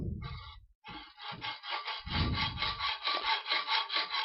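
Hand saw cuts a notch into key stock, with rhythmic rasping push strokes that quicken into a steady back-and-forth sawing, close and clear, with no talking.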